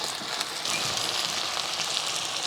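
Tomato and brinjal frying in a clay pot, a steady broadband sizzle that holds at an even loudness from start to finish with no voices over it.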